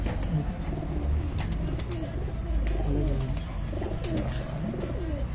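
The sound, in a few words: Ali Wala breed pigeon cooing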